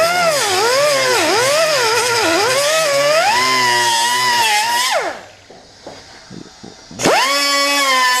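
A power tool grinds out welds on a truck center console with a loud, wavering high whine that spins down, pauses amid small clicks and knocks, then starts up again.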